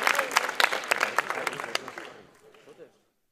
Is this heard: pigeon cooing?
no